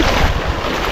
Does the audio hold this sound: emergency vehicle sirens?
no